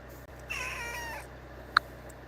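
A domestic cat gives a single faint, drawn-out meow indoors, followed by a short sharp click against a low background hum.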